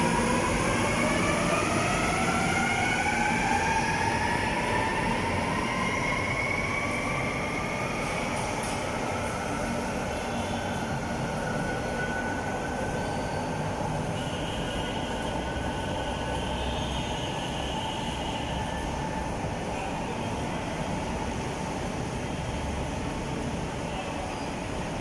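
An MRT metro train passes through Ortigas Center, its wheels and motors rumbling steadily with rising whines and some squeal, loud and continuous throughout with no talk.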